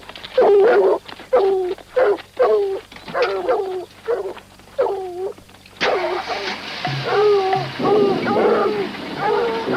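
Tracking dogs on a hunt whimper and yelp in a run of short, rising whines, then bark and whine amid engine rumble and outdoor noise, fairly close and loud.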